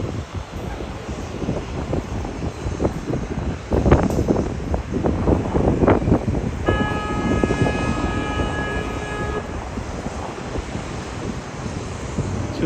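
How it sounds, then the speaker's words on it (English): Wind blowing outdoors in a park in New York City's Financial District, a steady roaring rumble buffeting the microphone with gusts, plus a brief tonal hum partway through, with no talking. "It's so damn windy."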